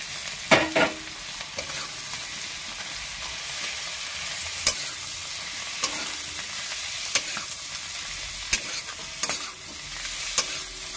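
Amudi fish pieces sizzle in a hot pan with coriander leaves for a Bengali fish jhal, a steady frying hiss punctuated by sharp clinks and scrapes of stirring.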